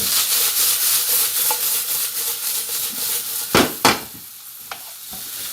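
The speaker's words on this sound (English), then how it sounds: "Keep giving them a stir so you don't burn the onions or the peppers." Onions and chopped peppers sizzle steadily in a frying pan, the hiss close and continuous, broken near the end by a few scraping stirs of a utensil.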